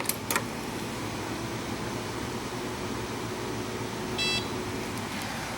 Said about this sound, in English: Get a beep.